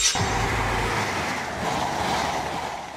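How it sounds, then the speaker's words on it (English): An intercity train rolls past with a steady, broad rumble and hiss of rail noise, loud and continuous from start to finish, with a low heavy thump at the outset. "Intercity train. A train service that connects major cities, offering faster travel compared to regular commuter trains."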